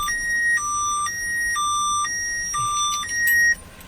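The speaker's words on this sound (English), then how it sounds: "if the alarm fires off, you'll get a push notification" A car alarm sounds in Pinecrest, alternating between two piercing electronic tones in a steady, loud pattern that cuts off abruptly near the end.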